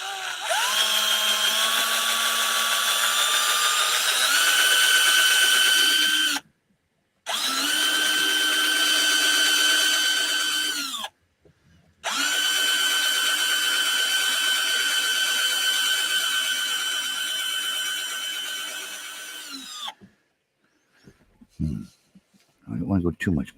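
A cordless drill with a nearly dead battery whirs loudly in three long bursts with short pauses between, winding down at the end before a few faint knocks.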